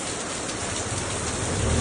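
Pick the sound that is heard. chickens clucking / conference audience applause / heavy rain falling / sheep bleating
heavy rain falling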